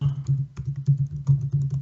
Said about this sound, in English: hopefully my keyboard doesn't make too much noise